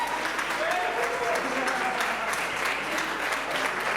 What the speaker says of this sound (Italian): un applauso anche a loro per piacere